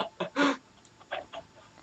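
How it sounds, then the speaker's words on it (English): Clucking from a Minecraft chicken, a few short close clucks in a quick cluster, with quieter ones trailing after, nobody talking over them. "Some chicken."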